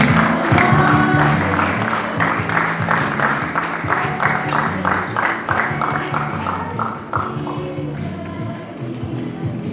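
Audience applause with some cheering at a Ghanaian independence-themed stage show as performers bow and leave, steady and loud under heavy music or crowd noise, fading slightly near the end.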